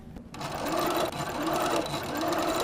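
A Little Rebel sewing machine with a quarter-inch quilting foot runs steadily, stitching a quilt seam in one loud continuous whir after a brief quiet start.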